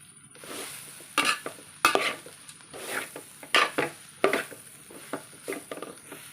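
A jackfruit mixture being stirred in a pan: a series of distinct scraping and knocking spoon strokes against the metal, irregular and close, over a faint sizzle, with no one speaking.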